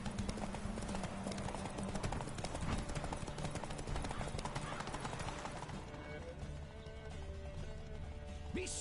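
Roach, the horse in The Witcher 3 video game, gallops with a steady, close clip-clop of hooves and an occasional neigh, while a voice speaks over the running.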